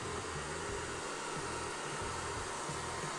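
Steady whirring hum from a SwitchBot K10+ Pro robot vacuum, with a low buzzing rattle from a vibrating front bumper pulsing underneath; continuous, close and fairly quiet, with no talking.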